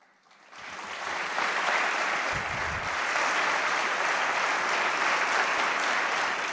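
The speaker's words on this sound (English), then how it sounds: "I'm allowing this applause to play for a reason that I'll talk about in the end here" Sustained audience applause after a speech by a Democratic governor, rising quickly from quiet into a dense, steady wash of clapping that holds loud and even to the end, with no voices heard.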